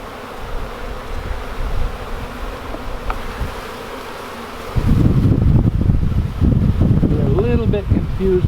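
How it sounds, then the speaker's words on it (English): Dense swarm of honeybees buzzing at a crowded hive entrance fitted with a reducer while the colony is split, a steady close hum that swells louder midway with wind rumble against the microphone. "But we have a lot of bees."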